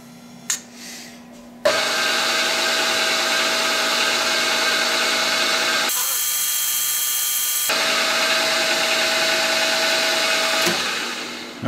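A machine cutting a counterbore on a Simplex steam engine part runs with a loud, steady whine, a short pause in the middle before the cut resumes, then winds down at the end.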